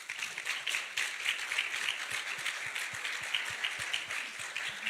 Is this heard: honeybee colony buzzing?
no